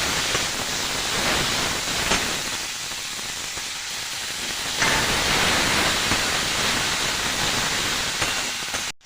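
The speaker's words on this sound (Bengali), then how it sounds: "মশলাটা অল্প অল্প জল দিয়ে আমি কষে নেবো" Spice masala cooked down with a little water in a pan for a sea crab curry gives a steady, loud, close hiss and sizzle that swells brighter midway and cuts off at the end.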